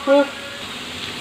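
Turmeric and ginger paste fry in a pan for fish curry, a soft close sizzle with a brief voice at the start and a small clink at the end.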